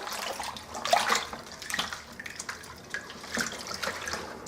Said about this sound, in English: So let's get some boiling hot water in there.